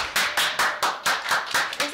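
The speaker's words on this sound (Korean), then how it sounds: "박수." Audience applause on a live broadcast show as a guest is welcomed onstage: steady, evenly spaced claps, about nine sharp strokes in quick rhythm, close and loud with no talking over them.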